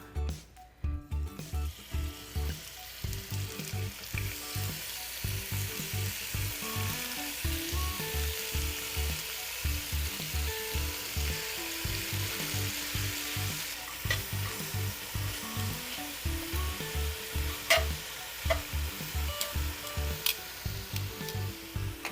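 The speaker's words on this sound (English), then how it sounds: "we're going to sear it so that it gets brown on most sides" Beer braised short ribs sear in a hot pan, giving a close, continuous sizzle broken by rhythmic scraping and stirring clatter as the meat is moved around to brown on each side.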